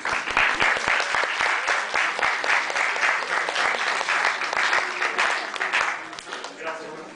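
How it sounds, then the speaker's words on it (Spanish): A lecture audience applauds a guest speaker as he is welcomed, giving dense, sustained clapping from many hands that stays loud and even throughout, then eases slightly at the end. "Un aplauso, por favor."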